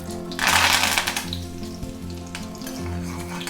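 Mustard seeds, urad dal and curry leaves crackle and sizzle in hot oil in a kadai, a loud burst of spattering popping that settles into a steady fry with a low hum underneath.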